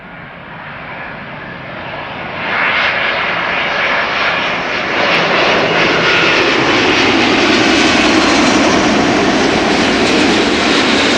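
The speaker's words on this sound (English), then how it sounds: "This is KLM flight 676, arriving from Edmonton, Canada. 777-200" A Boeing 777-200 airliner arriving at Amsterdam Schiphol roars in and grows steadily louder, a broad continuous rushing whine of engines that stays loud to the end.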